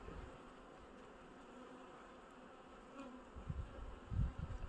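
Honey bees buzz around opened hive frames during colony reduction, a soft, steady hum close by that swells into louder bursts as bees fly near, with no talking.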